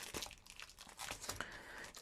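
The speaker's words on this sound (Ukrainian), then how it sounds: "Ось, бачите, такі заматано в такому пакетику цілофановому, чи як там, поліетиленовому." A plastic packet of embroidery beads crinkling close by, a series of quiet irregular rustles and crackles with no voices.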